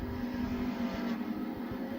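Race cars on the Ransomville dirt speedway roar at a distance, a steady engine drone with faint passing swells and crowd-like background noise, no talk heard.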